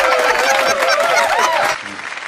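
An audience at a Hindi comedy stage show claps, a dense burst of applause with faint laughter mixed in that runs steadily for nearly two seconds before cutting off abruptly.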